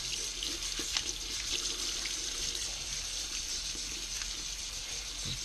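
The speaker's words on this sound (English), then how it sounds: "Pour in the water." Water poured into a Traxxas Slash 4x4 rear differential part for cleaning runs steadily with a soft hissing splash, continuous and fairly quiet.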